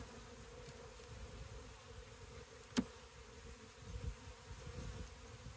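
Bees in an open beehive during inspection of hive 32 give off a faint, steady low buzzing hum that stays continuous throughout, with one sharp brief click midway and no speech.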